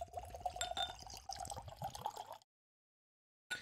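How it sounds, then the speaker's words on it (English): Pouring a sample of 1792 Full Proof bourbon into a glass: a close, steady trickle of liquid with a rising fill tone for about two seconds, then silence before a brief return of sound. "It's a little, well, I'll pour it first."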